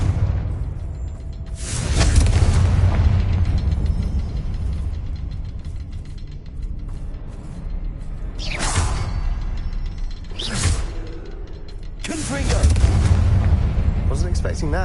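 Explosions from the Confringo spell in Hogwarts Legacy burst out repeatedly as heavy, booming blasts with whooshing tails, several large hits spaced across the stretch over a rumbling game background, with speech present.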